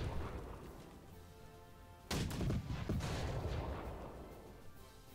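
A single heavy cannon boom from the video game Victory and Glory: Napoleon bursts out, followed by a rumbling, crackling tail over a steady low background.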